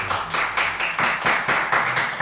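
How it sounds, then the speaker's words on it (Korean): A church congregation claps together in thanks during a Sunday service, a steady run of rhythmic hand claps filling the room at close range, loud and continuous with no talking over it. "감사의 뜻으로 박수 한번 크게 치도록"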